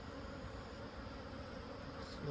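Native honeybees buzz steadily and continuously nearby, a dense unbroken hum with no voices.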